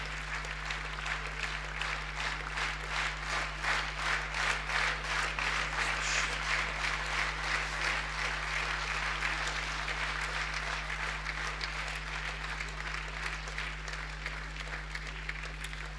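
An audience applauds at a children's award ceremony, with sustained, even clapping from a sizable crowd filling the whole stretch over a low steady hum.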